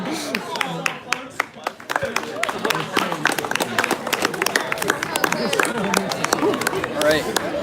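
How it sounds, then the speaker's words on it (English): Live audience at a TEDx event at the University of Detroit Mercy applauding: dense, sustained clapping from a large crowd with scattered sharp claps and background murmur running through the whole stretch. "another round of applause to all of you for coming and opening your minds to this TED Talk"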